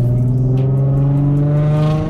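A Infiniti G35 coupe engine in manual mode, accelerating in second gear, hums steadily at moderate revs, a loud, close drone with a low pitch that climbs slightly as it pulls.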